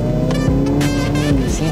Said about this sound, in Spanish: Es increíble el empuje de este carro.